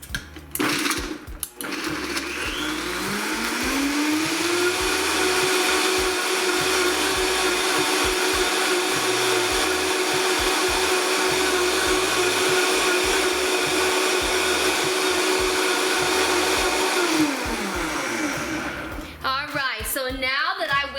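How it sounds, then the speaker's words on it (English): A countertop blender whirs loud and steady for about fifteen seconds, its motor pitch rising as it spins up and falling as it shuts off, mixing a wine slushy base with two tablespoons of sugar, before ice is added; brief talk at the start. "I'm gonna blend this up first."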